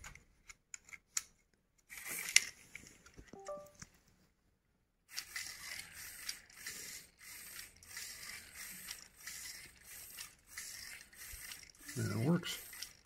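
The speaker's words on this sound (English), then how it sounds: "the Arduino by itself is able to power this servo. So I'll plug it in." A small servo motor driven by an Arduino whirs inside a fan robot, with clicking gear and ratchet-like mechanical bursts, a pause, then repeated rhythmic whirring pulses close by.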